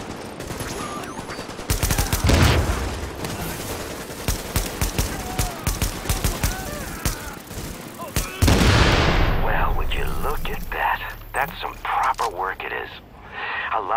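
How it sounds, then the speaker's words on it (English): Heavy gunfire in a shooter set in Tom Clancy's The Division: rapid bursts of shots and loud impacts crowd the first half, then a booming blast gives way to scattered shots with voices talking over them. "Warning, supplies taking fire"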